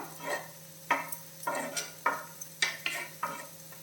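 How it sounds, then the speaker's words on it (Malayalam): Onions stirred in a hot clay pot, with soft sizzling under repeated scraping, tapping strokes of a spoon against the pot, close and fairly quiet. "അപ്പോൾ ഈ സവാളകളെല്ലാം നമുക്കൊന്ന് ഈ തന്നെ ഇട്ട് വഴറ്റി എല്ലാം കളയണം."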